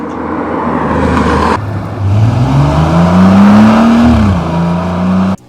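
A Porsche 911 Turbo S twin-turbo with a 3.6-liter boxer engine and sport exhaust revs loud and close, its pitch climbing steadily and then dropping back to a lower hold before the sound cuts off abruptly.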